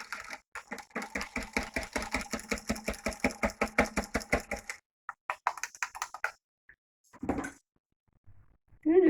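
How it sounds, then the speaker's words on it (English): A small whisk mixing yeast and flour into wet pizza dough in a home kitchen, about twenty quick, even scraping strokes close by, then a pause and a few scattered taps and clinks. "I'm going to mix that up just a little bit more with my little whisk here."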